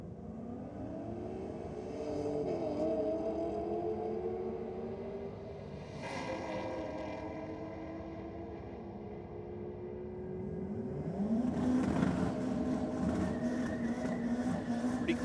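Ford XR6 drag racing car launching down a strip at a race meeting, engine note rising through gears with a surge and shift near six seconds, then a second loud revving pass building toward the end, no talk.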